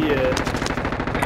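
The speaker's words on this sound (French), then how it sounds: "Je me fais tirer dessus!" Rapid bursts of automatic gunfire in a video game aimed at the player, loud and close, a short rattling volley with faint voice traces underneath.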